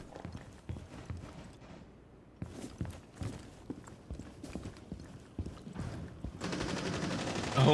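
Video game gun firing during an online shooter match: repeated sharp shots in quick bursts, moderately close, over a busy background that grows louder and denser toward the end.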